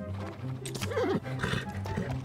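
A horse in the online game Alicia Online gives a loud, wavering neigh over quick clip-clopping hooves, close and clear, with some game background sound around it.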